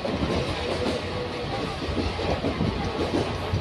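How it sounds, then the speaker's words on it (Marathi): A Mumbai local train runs at speed, a loud, steady rumble and rattle of carriages heard from inside a coach, with a faint clickety-clack and continuous road-like roar throughout. "Please do not lean out of the running train."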